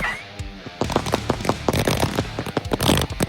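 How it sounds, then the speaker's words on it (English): A silver and gold strobe rocket firework from a consumer fireworks demo: a short launch hiss, then a dense burst of rapid crackling strobe pops lasting several seconds, loud and close. "Silver and gold strobe rocket."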